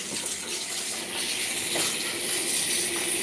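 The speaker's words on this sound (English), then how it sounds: "I'm just gonna hit this with some cold water for now" Cold tap water gushes steadily from a kitchen faucet onto freshly strained cooked food in a home kitchen, a continuous close hiss and splash with no talking.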